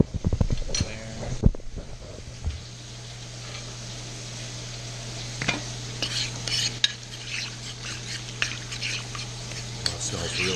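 Korean short rib frying and sizzling in a hot pan, with steady hiss under intermittent scraping and clinking of a utensil stirring the meat, plus a low constant hum in the background.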